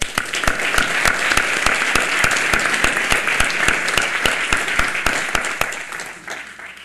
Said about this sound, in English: Let's give a warm round of applause and thank them for the job they've done.